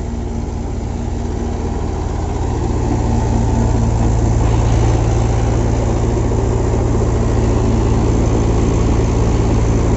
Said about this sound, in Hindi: तो गेहूँ की थ्रेसिंग हो रही है और इस ट्राली में गेहूँ को भरा जाएगा।